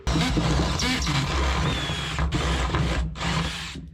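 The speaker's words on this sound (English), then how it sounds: "First thing we want to do is drill a hole" A power drill whines loudly and continuously, its motor droning with two brief pauses before spinning up again near the end.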